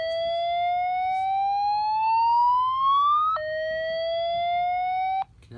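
An EST G4F-S2 fire alarm speaker sounds the slow whoop tone: two steadily rising electronic sweeps, each ending in an abrupt reset, heard alone at moderate volume.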